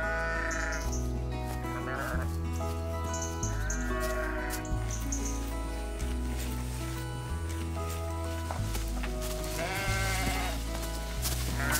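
A herd of about forty goats on a farm gives a few wavering bleats, mostly near the start and again toward the end, half-buried beneath steady, loud music.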